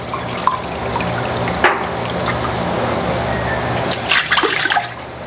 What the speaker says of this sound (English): So now we are going to add our brine